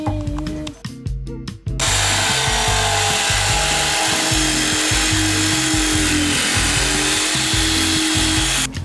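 A power sander works over slick wood surfaces on a pop-up camper under renovation, starting with short stuttering bursts and then settling into a loud, continuous buzzing grind.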